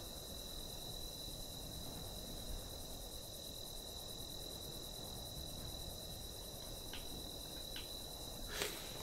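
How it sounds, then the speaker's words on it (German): Crickets chirp in the game The Isle Evrima, a dense, steady high trill that runs unbroken throughout at a soft level, with a few faint clicks near the end and no talking. "Hier oben in der Luft dürfte man das Grillengezirper eigentlich gar nicht mehr hören."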